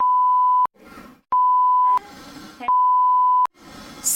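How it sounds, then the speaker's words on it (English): A 1 kHz censor beep tone sounds three times, each lasting roughly half a second to over a second, cutting in over a voice that talks in between. "Why are you beeping when I say?"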